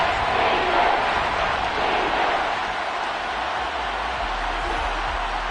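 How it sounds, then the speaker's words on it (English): A stadium crowd in a Washington Commanders versus Broncos football video game roars continuously, a broad dense wash of cheering and shouting that stays loud and steady throughout, with no clear commentary on top. "That just means this crowd's going to get even louder"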